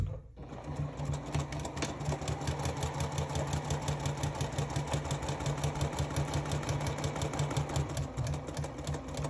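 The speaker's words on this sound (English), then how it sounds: "go ahead and top stitch it down." A sewing machine top-stitches fabric in one steady, close, unbroken run of fast rhythmic needle chatter with a motor hum under it.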